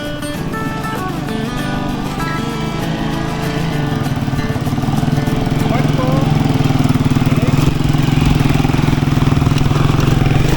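A motorcycle engine drones steadily and close on a rocky trail near Sitio Flora, Capas, Tarlac, growing slightly louder partway through, with people talking over it.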